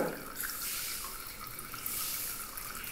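Boiled taro leaves sit in a basket while water drains and drips from them, producing a steady trickling, splashing wash of liquid, close and continuous, with no speech.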